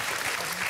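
Audience applause for a contestant named Andrey at a game-show results event, a short steady burst of clapping from a room of people.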